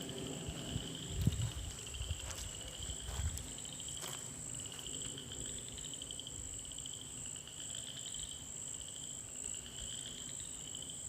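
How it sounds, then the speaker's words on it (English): A frog calls along the Florida Trail, its faint, repeated pulsing notes set within a steady, dense chorus of insects that continues without a break and without any voices. "A new sound. I'm guessing that's some kind of frog."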